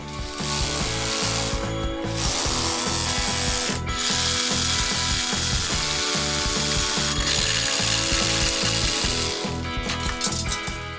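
A tool drills a hole through a wall for the ducts of a double-flow ventilation system in a renovation, making a loud, rhythmic ratcheting and grinding with a couple of brief pauses, and no talk.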